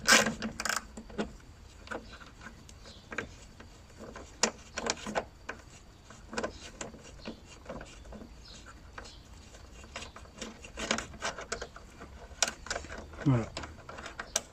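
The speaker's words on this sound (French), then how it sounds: "Et on dévisse." A 10mm socket ratchet unscrews headlight screws on a Renault Megane 3 RS, giving close, repeated clicking and ticking bursts while someone talks quietly throughout.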